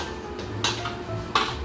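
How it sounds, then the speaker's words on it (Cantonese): Lemon chicken and sauce are tossed in a wok, giving a few faint clanks and scrapes of metal against metal over a steady low background hum. "識拋鑊嘅就拋啦"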